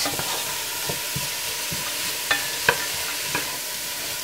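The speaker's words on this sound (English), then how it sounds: "So we're going to just saute that for a little bit here." Shredded carrots, onion and celery sauté gently in a pan over a lowered burner, giving a soft steady sizzle with occasional stirring scrapes and a few sharp clinks of a utensil.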